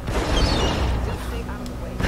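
A gun firing in the Tomb Raider game: a loud, booming blast opens and decays into a rumbling tail, with a voice speaking briefly underneath.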